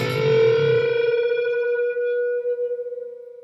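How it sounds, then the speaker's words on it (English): Two electric guitar notes struck together ring out with a wavering, beating flutter that settles as the pitches come into tune, sustaining clearly and slowly fading over a few seconds. "you can even hit those 2 notes together. I love the sound of that because you get that flutter until they get in tune."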